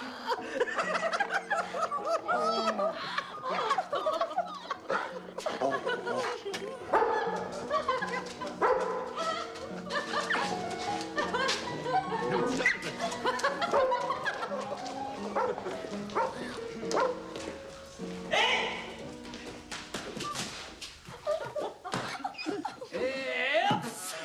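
Someone imitates a dog, yapping and whimpering in short, uneven bursts, with chuckling and other voices mixed in around the playful barks.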